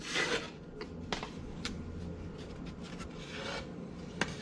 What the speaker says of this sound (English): I'll take care of planing all the panel inserts